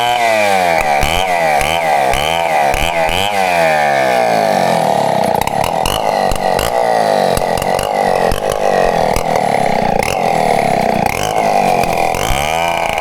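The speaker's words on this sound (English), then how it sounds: "let me cut this off because of the chainsaw." A chainsaw runs loudly and continuously nearby, its engine revving up and down in repeated surges.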